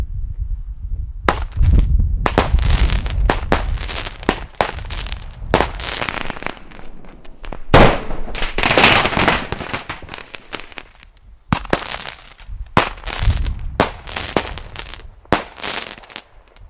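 Rapid series of sharp bangs and crackling bursts from a 9-shot consumer firework battery, fired in quick clusters with brief pauses between, loud and close.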